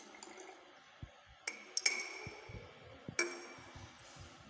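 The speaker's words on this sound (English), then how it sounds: "So I will pour it into the flask." Distilled water poured into a glass flask in a lab: a soft liquid trickle with several bright glassy clinks, fairly quiet and close.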